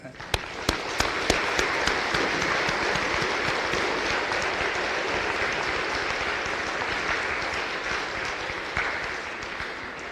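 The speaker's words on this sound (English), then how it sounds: "Let's give the band another round of applause." Audience applause at a Veterans Day program after the band's performance, a loud, sustained crowd clapping with a few sharp individual claps at the start, holding steady for about ten seconds before easing slightly.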